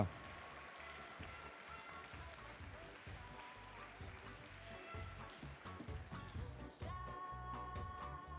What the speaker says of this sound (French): je demande d'applaudir une dernière fois les 8 équipes candidates